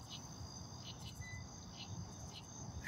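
Crickets trill through the night in a steady, continuous chirping chorus with faint repeated pulses, heard outdoors at moderate distance with no talking.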